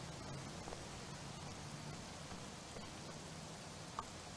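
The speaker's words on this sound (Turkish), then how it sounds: "Ya yağmur sesi kafamı düttü, yemin ediyorum var ya." Steady simulated rain in a car dealership simulator video game, a constant even hiss of downpour with no breaks, filling the scene at moderate level.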